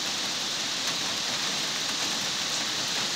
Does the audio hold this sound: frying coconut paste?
no